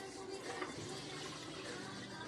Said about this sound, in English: I'm rinsing out the seeds.